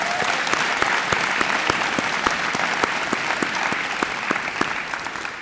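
A graduation ceremony audience at Perry Technical Institute claps for honoured graduates, steady full applause with a few sharp individual claps standing out, lasting several seconds with no speech over it.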